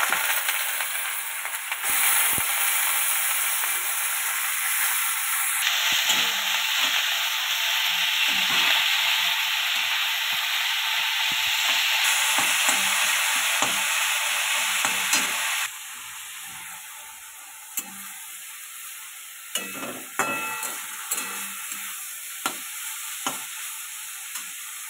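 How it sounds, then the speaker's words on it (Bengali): Onions frying in hot oil in a pan after eggs were fried, a steady loud sizzle and hiss with stirring scrapes, easing to a quieter crackle with sharp pops toward the end. "তেলের মধ্যে আমি পেঁয়াজটা তুলে নিচ্ছি।"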